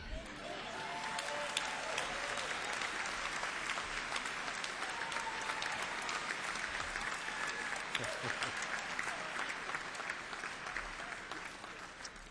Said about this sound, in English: now how often does an invocation get an applause like that?